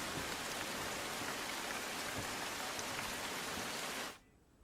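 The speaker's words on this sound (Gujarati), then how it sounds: "ભરૂચમાં આ તરફ કડાકા ભડાકા સાથે ધોધમાર વરસાદની શરૂઆત થઈ હતી" Heavy monsoon rain pours down as a dense, unbroken hiss for about four seconds, loud and close, then cuts off abruptly into near silence.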